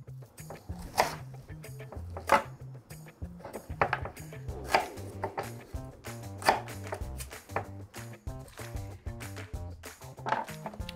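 An onion is roughly diced into chunks with a knife: sharp chopping strikes land every second or so, close and clear, over steady background music.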